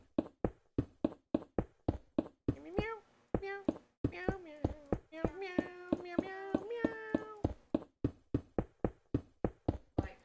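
A person meows a tune in a drawn-out, melodic way, set between many short, sharp taps or knocks that sound in a steady rhythm before and after the sung part; the meowing voice imitates a cat.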